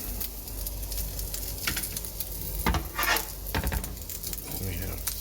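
Bacon sizzles in a pan of oil and fat at a home stove, a soft steady crackle broken by a few louder spits and utensil scrapes.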